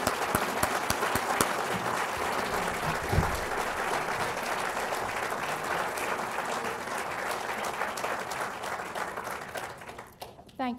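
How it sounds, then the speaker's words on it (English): A conference audience breaks into sustained applause, a dense, even wash of many hands clapping for about ten seconds before fading, with faint voices underneath. "So I hope you will join me in a round of applause for Linda Evans for launching this endeavor"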